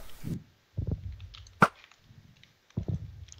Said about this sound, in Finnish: Mähän ammusta tällä bovilla, se ei hyökkää.